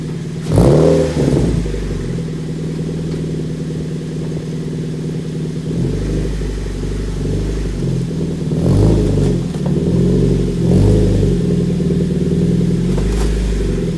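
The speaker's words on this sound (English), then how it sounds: "that was a little sound clip of the current exhaust" Stock exhaust on a Mazda Miata, loud and close, settling into a steady low idle broken by several sharp throttle blips and revs, with no voices.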